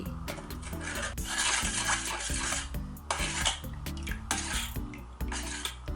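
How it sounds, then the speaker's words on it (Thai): A spoon stirs salt into plain water to dissolve it, a steady scraping swirl that runs throughout over louder background music. "น้ำเปล่าใส่เกลือ คนให้ละลาย"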